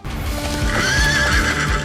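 Loud close whinny of a horse in a historical series trailer, a rising neigh with hooves clip-clopping beneath it.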